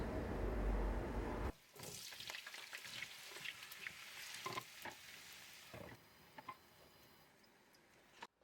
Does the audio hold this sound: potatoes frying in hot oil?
yes